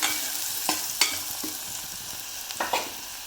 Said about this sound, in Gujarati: ફરી થોડી વાર હલાવી લઈશું.